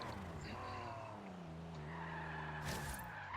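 Forza Horizon 3 race car squealing its tires through a slide as the engine note drops and rises, a close, sustained skid lasting a few seconds with a brief sharp burst near the end.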